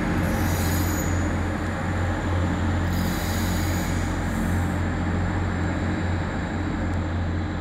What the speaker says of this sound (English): Northern coming into Manchester Victoria. This is going to Kirkby.